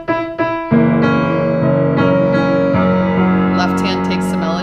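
Piano played with both hands, a low bass line under a melody; a few quick struck notes open into sustained, ringing chords and melodic tones, close and fairly loud throughout.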